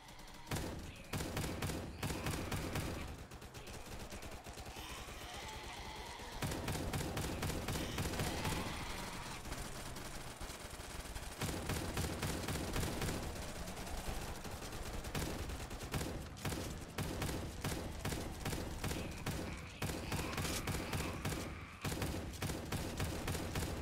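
A shotgun fires over and over in a video game, rapid booming shots packed into a busy, loud stretch of combat, with short pauses between flurries.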